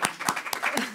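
A few sharp hand claps from an audience at a talk on solar cities, about four separate slaps in under a second, fairly close and clear.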